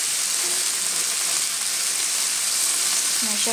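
Potatoes frying in a pan with a continuous close sizzle and light stirring, ending with a brief tonal clink or voice at the very end.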